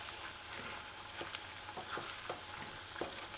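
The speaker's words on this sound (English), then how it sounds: "You just give your pork strips that's frying in the heating oil a couple stir, a few stirs" Pork strips frying in hot oil over medium-low heat, a steady soft sizzle with a few scraping stirs spaced through it, close and quiet, no talking.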